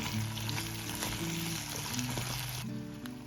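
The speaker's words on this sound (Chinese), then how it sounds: "炒香之后再倒入土豆块翻炒" Potato chunks and onion stir-fry in a wok in leftover fish oil, giving a loud, continuous close sizzle with occasional stirring scrapes.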